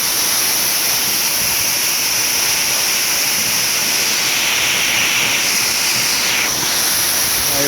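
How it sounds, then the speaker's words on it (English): Steady, loud broadband roar of a waterfall at Seneca Deerfield in LaSalle, Illinois, heard up close and continuous, with no voices. "we're right here at this waterfall thing"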